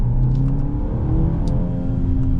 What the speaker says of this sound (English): just giving a little bit of an acceleration, this thing starts to pull